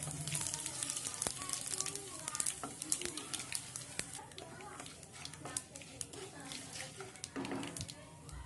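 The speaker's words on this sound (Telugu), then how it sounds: "ఇవి బాగా కలుపుకుంటూ దోరగా ఫ్రై చేసుకోవాలండి తాలింపు గింజల్ని" Mustard seeds, cumin, dals and cut dried red chillies sizzle and crackle in hot oil for a South Indian tempering, a steady close frying hiss with scattered pops under a voice talking.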